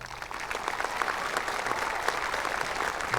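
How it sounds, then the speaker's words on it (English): A high school graduation crowd applauds for the staff, a dense, sustained wash of clapping heard from within the audience at steady loudness throughout. "please give our staff an incredible round of applause"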